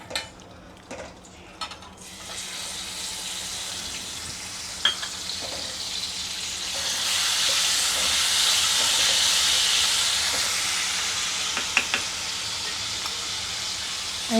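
Garlic-ginger paste drops into hot oil for a fish curry, starting with a few clinks and then building to a loud, steady hiss and sizzle with occasional utensil taps, with no talking.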